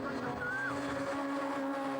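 Radical race cars roar steadily at close range at Castle Combe circuit, a dense engine drone with a brief rising whine, the sound of heavy braking into a right-hand corner.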